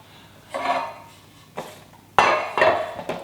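Washing-up clatter as a bowl, beaters, a spoon and a spatula are handled and rinsed: a few separate clinks and knocks of metal and crockery, close by, with quiet gaps between them.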